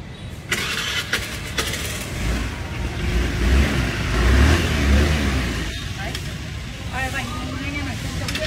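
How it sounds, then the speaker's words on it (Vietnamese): A car engine cranks and turns over, then settles into a low rumbling idle while people chat nearby. "Em nổ máy cho anh, nổ máy cho anh nghe này"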